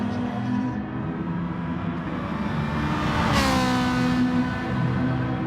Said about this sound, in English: Oh yeah, sounds good as it goes past.